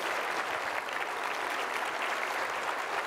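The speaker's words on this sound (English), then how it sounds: "Please join me in another round of applause for our changemaker, Dr. Roger Ulrich." A conference audience claps in steady, sustained applause that fills the whole stretch evenly, with no voices rising above it.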